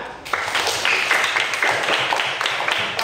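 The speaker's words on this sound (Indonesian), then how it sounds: "Betul, tepuk tangan" A class of students in an Indonesian Islamic religious education lesson claps hands together in a brisk rhythmic pattern, loud and close, with a brief quiet moment before the clapping begins.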